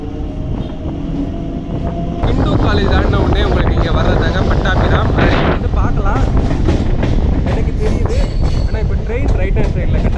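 A suburban train from Chennai Central to Pattabiram rumbles along steadily with a loud, continuous rolling roar and rattling, wind noise buffeting the microphone throughout.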